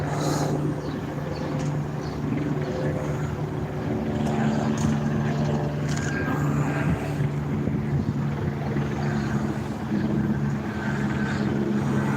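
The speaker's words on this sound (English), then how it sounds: "You guys can hear the choppers that are over up ahead. There's two of them circling each other." A steady low droning rumble of two helicopters circling overhead hangs in the air throughout, continuous and moderately distant, with no talking.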